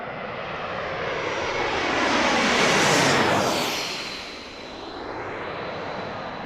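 An airliner makes its turn onto final approach to land at Washington DCA near Gravelly Point, its engine roar swelling as it passes overhead then fading into a distant whine.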